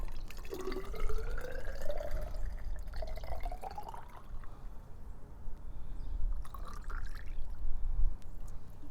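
Water is poured from a rain gauge's tube through a funnel into the inner tube, a close trickling and gurgling stream with rising pitch as it fills, pausing briefly and then resuming.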